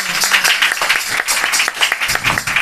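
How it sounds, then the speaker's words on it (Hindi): A church congregation bursts into close, loud applause, a brisk irregular patter of many hands clapping with no talking over it. "तालियां।"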